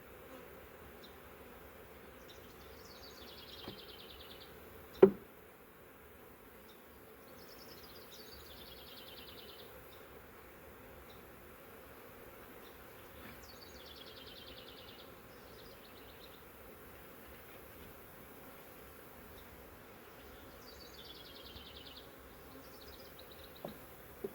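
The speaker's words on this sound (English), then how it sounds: "Just a ball of bees" Honey bees from a captured swarm clustered in a trap frame give off a faint, steady buzzing drone with occasional louder passes of single insects near the listener, plus one sharp knock partway through.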